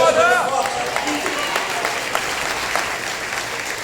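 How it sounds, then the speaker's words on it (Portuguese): Church congregation applauding during a Portuguese-language sermon, a dense steady clapping that fills the clip, with a preacher's voice briefly heard at the start. "dá um prato e um aplauso aqui"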